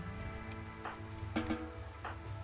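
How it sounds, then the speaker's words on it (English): Steady rain falls in RimWorld, a soft, quiet hiss with a few faint patters and thumps scattered through it. "the rain is not making things easier"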